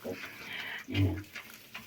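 Vietnamese pot-bellied piglets grunt and squeal in short bursts close by, a few quick snorts over roughly two seconds.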